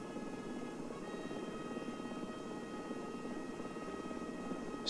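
A Swedish helicopter in War Thunder gives off a steady, even rotor and engine drone at moderate volume, with a faint higher tone and no talk until a brief burst at the very end.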